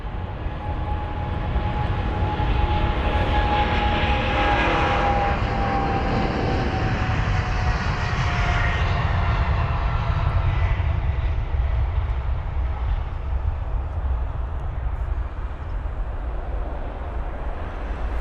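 A British Airways Boeing 777-200ER bound for New York rolls down the runway and departs Heathrow, its engines a loud, steady roar with a high whine that slowly fades into a deep rumble.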